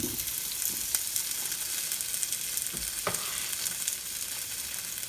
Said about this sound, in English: now we're going to put the potatoes in. We're going to try and brown them a little bit.